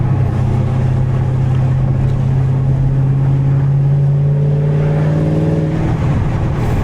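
Cammed fifth-generation Camaro Z28 V8 droning loud and steady from inside the car, exhaust rumbling at a held pitch before rising slightly and then easing off near the end, with no talking.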